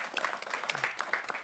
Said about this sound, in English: Little applause for the presentation.